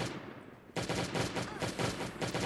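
Rapid video game gunfire, a dense burst of repeated loud shots that kicks in sharply after a brief quieter lead-in and continues in a fast rhythm to the end.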